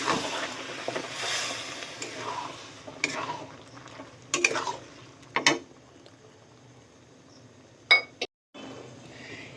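Boiled potatoes and peas go into a pan of fried masala for vegetarian ghugni, followed by close spoon stirring, soft sizzling and a few sharp utensil clinks in short bursts between quieter moments.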